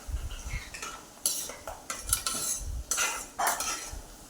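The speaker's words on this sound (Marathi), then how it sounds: "छान शेंगदाणे तळून घ्यायचे." Peanuts fry in a pan for a fasting chivda and are stirred with a metal spoon, scraping and rattling in several loud, close strokes over a low sizzle, with no voices.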